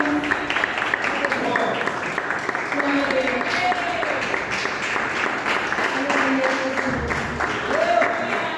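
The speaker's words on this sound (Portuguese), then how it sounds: "Exalte ao Senhor com palmas" A church congregation at a missions service claps steadily for over eight seconds, with voices and some singing or calling audible over the dense rhythmic clapping.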